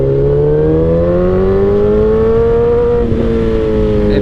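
A 2008 Suzuki GSX-R 1000cc sport bike engine pulls hard under acceleration, its loud, steady drone climbing in pitch across the whole stretch with a brief wobble near the end.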